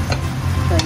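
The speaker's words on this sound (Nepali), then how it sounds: "दही हालेर चलाउने" A spoon stirring yogurt into a sizzling tomato masala in a pan for chicken biryani, with brief scraping strokes over a steady low sizzle, close up and short.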